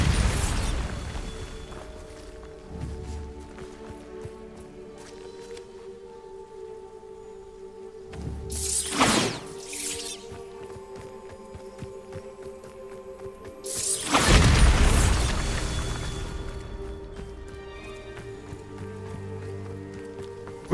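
Two loud booming blasts from the Bombarda spell in Hogwarts Legacy, each a sharp burst followed by a rumbling, crumbling tail, standing apart over a quieter hum of game sound.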